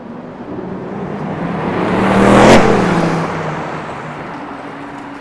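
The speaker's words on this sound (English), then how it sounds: "Lambo racing a Mustang, it looked like." A Lamborghini and a Mustang race along Yonge Street in downtown Toronto, engines swelling to a roaring pass-by and fading away amid street noise.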